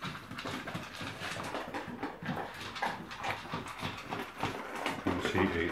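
A sprocker spaniel eats quickly from a greedy bowl, giving rapid, busy crunching, slurping and kibble rattling against the bowl up close, with brief whimpering noises mixed in.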